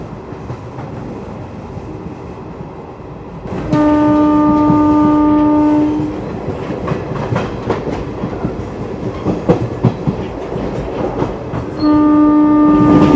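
The Garib Rath express train crosses the Yamuna river with loud steady rumbling and clattering wheels, while two long sustained horn blasts sound nearby, one early and one near the end.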